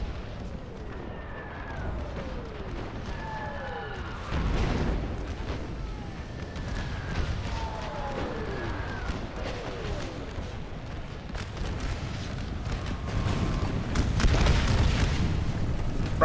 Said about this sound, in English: No, that's artillery.